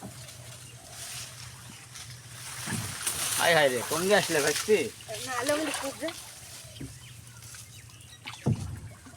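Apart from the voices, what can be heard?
rowing a wooden boat on a river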